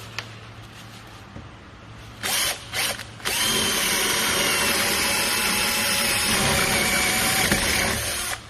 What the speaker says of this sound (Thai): เดี๋ยวลองเจาะปูนดูเลยนะครับตัวนี้